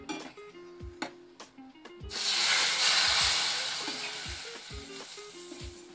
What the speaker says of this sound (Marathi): आपण या भाजीवरती आता फोडणी घालूया।